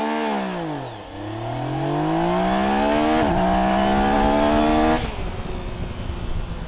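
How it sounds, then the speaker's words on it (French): A Yamaha Niken GT three-cylinder motorcycle accelerates at full throttle from 0 to 100 km/h, its loud, raspy engine rising in pitch and dipping at each of several quick gear shifts. "je vais vous faire un départ 0-100 km/h à bloc."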